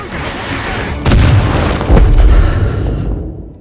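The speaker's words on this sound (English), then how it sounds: "in which you start getting tracked by mortars of which will insta-kill you no matter what" Two heavy mortar blasts land close by in Modern Warfare 2 Remastered, about a second apart, each a loud deep boom with a rumbling tail, followed by a cut to silence.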